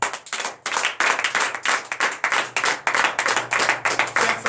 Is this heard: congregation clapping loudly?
yes